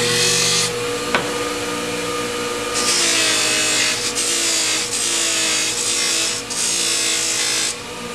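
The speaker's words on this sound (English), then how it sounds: "I'm going to apply a little bit of polish on the wheel" A buffing wheel charged with polish spinning against a cast band ring, a loud continuous motor whine with a steady hum underneath, the pitch and grinding hiss swelling and easing as the ring is pressed on and lifted off.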